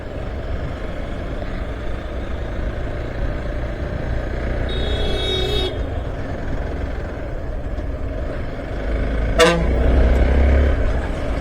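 A vehicle horn honks in a sustained blare, then another sharp toot follows, over a steady rumble of road traffic and engines, on a motorcycle ride toward Ooty.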